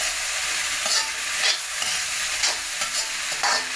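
Grated coconut being stirred in a frying pan gives a soft steady sizzle, with scraping strokes of a spoon about once a second.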